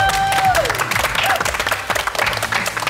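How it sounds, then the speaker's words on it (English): Studio audience applauding presenters on a TV show, a dense burst of clapping with some cheering, steady and loud across the whole moment, with a faint whistle-like tone near the start. "Let's give the presenters a round of applause"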